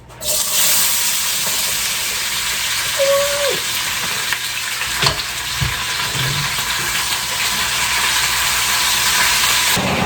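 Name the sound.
potatoes frying in hot oil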